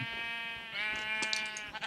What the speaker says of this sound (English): I'm going to use my wooden pickaxe to attack a few sheep and get their wool and their raw mutton